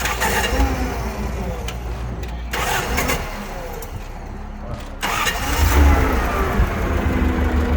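Forklift engine cranking, catching and then running at a steady rough idle, loud and close, with a short break in the noise partway through.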